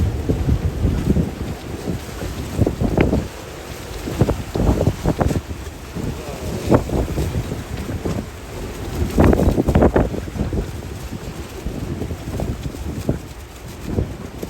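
Strong 45-knot wind roars and gusts against the microphone in heavy bursts aboard a sailboat in Key West, with rumbling buffeting and water and boat noise underneath throughout.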